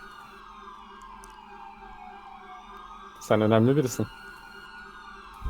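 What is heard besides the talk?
approaching sirens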